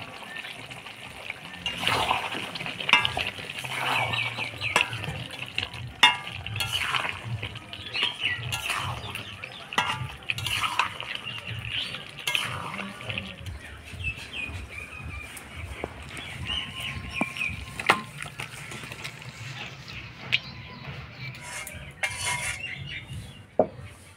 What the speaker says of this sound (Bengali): এবার ঘি গরম মশলা দিয়ে নাড়াচাড়া করে নামাই দিব